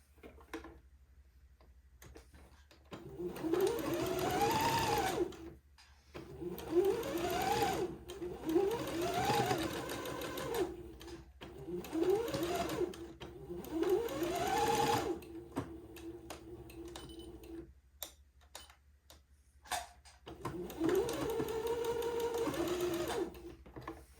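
A home sewing machine stitches a dress sleeve in repeated bursts, each a rising and falling mechanical whir of a few seconds separated by short pauses, heard close with no voices.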